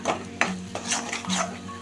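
A spoon stirs ginger pickle cooking in oil in a heavy-bottomed pan, with repeated scraping strokes against the metal and a soft sizzle underneath, close and fairly loud.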